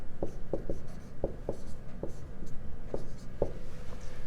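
Marker or chalk tapping and scratching on a board during a geometry lesson, a handful of short, sharp strokes spaced irregularly over a steady background hum, with no talking.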